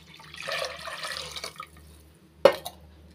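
Water poured into a cooking pot of Tamil kattu soru rice with coconut milk and tamarind water, a steady splashing pour for about a second and a half, then a quiet pause and one sharp splash.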